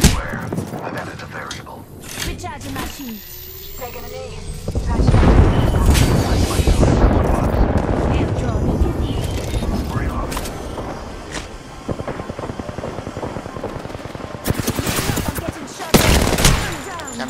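Heavy gunfire from the Apex Legends video game, with dense bursts of shots and explosive booms swelling loudly from the middle onward, under a player's speech.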